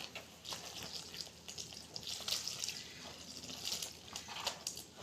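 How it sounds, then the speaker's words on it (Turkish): Water is poured into Diyarbakır-style bread dough as a soft, continuous trickle and splash. The sound is quiet and close, with no voices. "Bir şöyle suyumuzu ilave ediyoruz."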